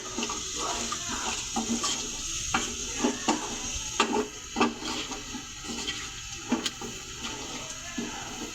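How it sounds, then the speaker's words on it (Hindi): Beef fries with yogurt in a pot for beef yakhni pulao, with a steady close sizzle under repeated scraping strokes of a spoon stirring against the metal. "ये 1 पाव दही है, ये इसके अंदर शामिल करेंगे और इसको तब तक भूनेंगे जब तक दही का पानी"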